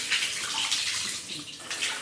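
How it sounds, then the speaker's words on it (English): Hotel shower running steadily into a slowly draining shower tray, a continuous close hiss of spraying water with no pauses. "Okay, so the shower tray is draining, guys, it's just a bit slow."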